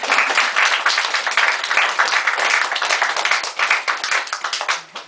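Audience at an art exhibition opening speech bursts into loud, sustained applause, dense clapping from many hands that carries on steadily before fading out near the end.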